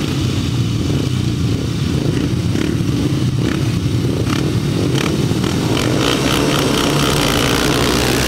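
Upright solo motorcycles race on a grasstrack, engines blaring in a dense, continuous roar with revving surges as the pack passes, loud and sustained with no talk.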